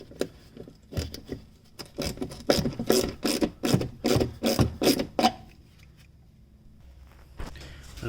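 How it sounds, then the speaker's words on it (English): A ratchet and socket clicks in rapid uneven bursts while removing 10 mm nuts on a 2019 Toyota Camry 2.5 LE, close and crisp, then stops into quiet. "Use a socket to remove those."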